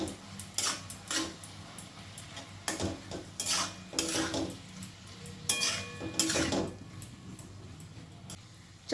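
Spoon scraping and clinking against a pan while ash gourd is mixed with turmeric powder and slit green chillies; intermittent metallic stirring strokes with a faint sizzle beneath, fairly quiet and close.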